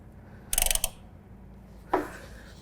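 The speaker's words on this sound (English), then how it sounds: "We're gonna take our 1/2" drive ratchet here, start to tighten up on this filter." A 1/2 inch drive ratchet tightening on a John Deere Z960M zero-turn mower's oil filter, giving one quick burst of close metallic clicking and then a single short click about a second later.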